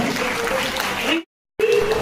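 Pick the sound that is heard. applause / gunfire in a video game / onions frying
applause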